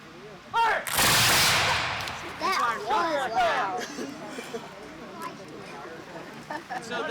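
A single loud musket volley fired together by British soldier reenactors, a sharp broadband crack with a long rolling decay, following shouted drill commands and with people talking afterward.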